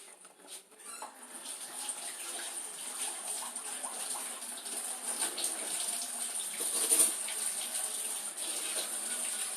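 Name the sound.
hands being washed under a running tap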